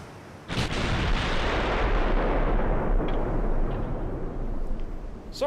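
Naval artillery firing high-explosive shells in Ultimate Admiral Dreadnoughts: a sudden loud boom opens into a sustained, heavy rumbling roar that fills the rest of the moment, with a few faint cracks near the end and no talking.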